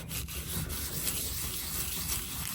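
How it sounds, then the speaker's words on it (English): A buffing cloth rubs steadily over a painted leather patch, producing a continuous close, dry swishing friction sound with no talking. "Keep buffing, keep buffing."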